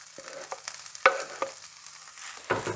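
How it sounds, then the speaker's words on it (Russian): Fresh cabbage and onion frying together in a pan while being stirred. Soft sizzling sits under occasional sharp scrapes and taps of stirring, close and quiet, with a louder stir at the very end. "Перемешиваю и обжариваю все вместе несколько минут."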